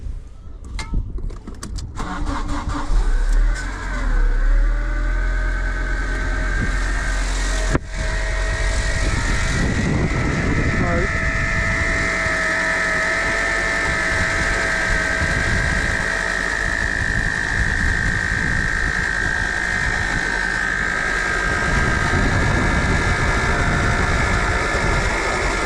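A Fiat Panda 100hp running after a revival, its engine turning over and settling into a steady idle, with a continuous whirring from the alternator and mechanical rattles close to the microphone. Loud and sustained throughout, with no talking.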